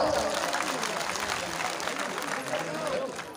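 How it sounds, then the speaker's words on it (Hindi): A crowd claps and cheers steadily in a dense wash of applause, with voices mixed in the background. "एक बार जोरदार तालियां बजाओ।"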